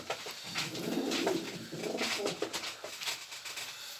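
A female Polish show homing pigeon coos close by, soft throaty rolling calls repeating in a steady murmur with no talking.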